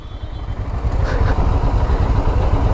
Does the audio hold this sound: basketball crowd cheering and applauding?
no